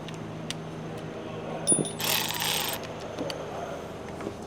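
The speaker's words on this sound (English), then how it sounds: "let me tighten these two 10s down" A ratchet wrench tightens two 10 mm bolts during a 6.7 diesel leak prevention kit installation, giving faint clicking pawl ticks and a brief metallic clatter against quiet background noise.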